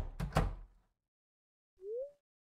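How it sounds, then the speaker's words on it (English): A door opens in the Stardew Valley video game: a short clattering burst, then silence, then a separate brief rising tonal chime, crisp and close. "Why didn't one just hold the door open for everyone and then not make all the door noises?"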